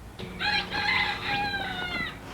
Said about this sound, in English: everybody's crowing